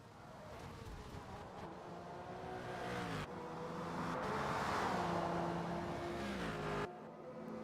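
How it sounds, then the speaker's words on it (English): A race car engine in a racing video game, droning and rising in pitch as it revs, steady and fairly loud, with abrupt cuts in tone as gears shift. "working to get the car started back up and going on the track"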